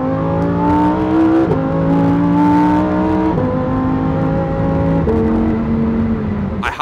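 Lamborghini at speed with a loud, steady engine drone that climbs through stepped gear changes about every one and a half seconds, close and constant with no talking.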